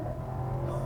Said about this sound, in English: even in comfort mode, this thing will accelerate so ballistically